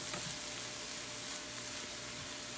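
Rice and cauliflower rice being stirred in a hot pan, a steady close sizzle with soft scraping throughout and no talk.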